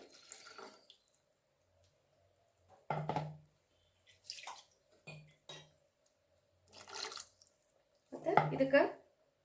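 A little water swished in a masala grinder jar and poured into a pan of frying spice paste for green gram sambar, heard as short, close splashes separated by silence, with a voice talking between them.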